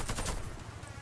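Rapid gunfire bursts in the online shooter Warface during PvP play, a dense fusillade of quick shots filling the short moment before trailing off.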